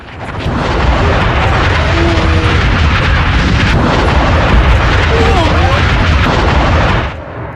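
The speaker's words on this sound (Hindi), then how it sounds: "जिसके बाद बड़ा धमाका आप देख रहे हैं" A sustained, loud roaring blast from a US strike rumbles continuously for about seven seconds, dense and broadband, with faint tonal whines above it before it cuts off.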